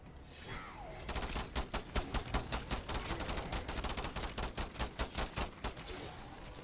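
Rapid automatic gunfire from MW3 Zombies (Season 4 Reloaded), fired in long continuous bursts of sharp, closely spaced shots that start after a brief quiet moment and carry on loudly to the end.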